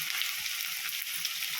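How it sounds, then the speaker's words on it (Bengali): Onions frying in a pan, a close, steady crackling sizzle with no voices over it. "পেঁয়াজটা আমরা প্রথমে ভেজে নেব।"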